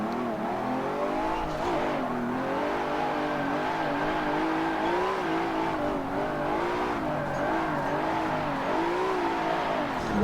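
A car on torqued tyres driven hard and held at angles, engine revving loudly and steadily throughout with a continuous rising and falling tone and some tyre noise.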